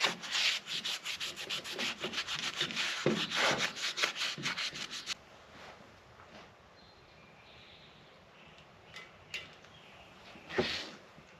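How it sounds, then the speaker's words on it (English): A rag rubs briskly over a 1960 John Deere 1010 backhoe gas engine at the gasket surface in a workshop, with close, steady scrubbing strokes for about five seconds, then quieter handling noises and a few faint knocks. "we should probably give it a quick wipe down"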